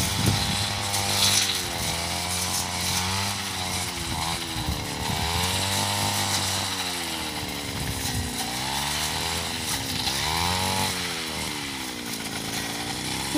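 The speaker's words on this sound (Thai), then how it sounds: "เพราะว่าเครื่องตัดหญ้านี้เสียงดังมากๆเลยค่ะ" A petrol grass cutter runs close by, its engine revving and surging in waves as it cuts grass to feed elephants in the hot sun. The droning is loud and continuous, with no talking.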